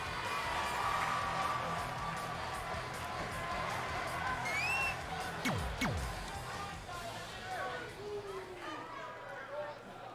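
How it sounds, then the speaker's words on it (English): An arena crowd in the WWE 2K20 wrestling game gives a steady, moderately distant roar of cheers with occasional whistles and whoops, running beneath continuous commentator talk. "it sounds to me like the crowd is more than ready for this one"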